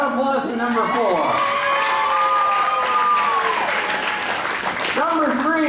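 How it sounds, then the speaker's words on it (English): An audience at a front porch variety show applauds steadily, with clapping and some cheers, while voices call out over the top. "round of applause for number 4"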